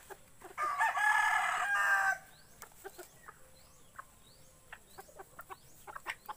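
A bantam rooster crows once loudly and close by, followed by softer scattered clucks and clicks from fowl nearby.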